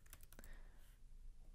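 Typing on a computer keyboard while entering a Java command on Windows: a quick run of faint clicking keystrokes at the start, then quieter background hum with no speech.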